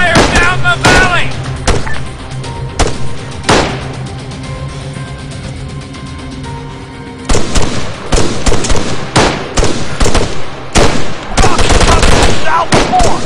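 Gunfire rattles through an ArmA 3 battle in a valley, with repeated bursts and single shots from near and far, loud throughout and thickening toward the end, with radio-style voices talking amid the shooting.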